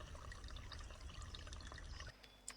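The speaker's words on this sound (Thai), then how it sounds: "ตักน้ำก่อนนะฮะ ตักน้ำก่อนแป๊บหนึ่งใจเย็น" Water being scooped up to water garden plants, a steady splashy pour and trickle that runs close and continuous, then drops away near the end with a small clink.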